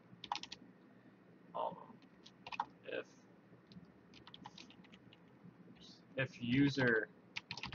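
Computer keyboard typing of JavaScript code, scattered soft key clicks in short clusters, close and quiet, under someone talking intermittently.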